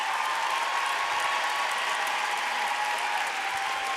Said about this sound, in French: J'aimerais qu'on applaudisse les musiciens sous la direction musicale de Gilbert Fradette.